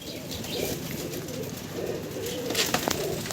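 Pigeons coo softly and steadily over a continuous bed of bird noise, with a few sharper chirps near the end and no voices.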